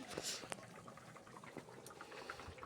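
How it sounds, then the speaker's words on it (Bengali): Curry broth bubbles in a pot on the stove, a faint, close simmer of irregular pops and gurgles with soft talk underneath. "ঝোলটা আমার ফুটে গেছে"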